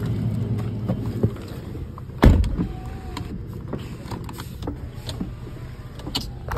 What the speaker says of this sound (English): Windows go up and down.